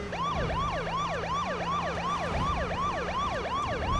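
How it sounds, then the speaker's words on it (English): A wailing siren in H1Z1 on PS4 sweeps up and down in a fast, repeating yelp, loud and steady throughout with a low engine hum underneath. "All I heard was siren."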